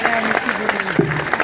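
A crowd applauding to welcome the chief minister at a Bishnoi temple event, brisk scattered clapping running throughout, partly overlapped by a voice speaking over it.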